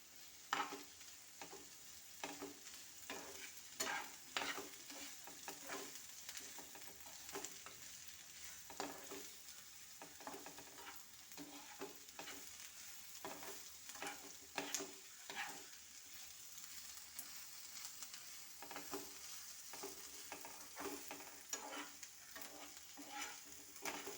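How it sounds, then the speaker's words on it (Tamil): Crushed ginger and garlic sauté in oil for a prawn thokku, a steady quiet sizzle under constant rhythmic scraping and stirring of a spatula in the pan, close and continuous without speech. "இப்போ இதில் இடித்து வச்ச இஞ்சியும் பூண்டையும் சேர்த்துக்கலாம். அது அந்த பச்சை வாசம் போக நல்லா வதக்கி விடுங்க."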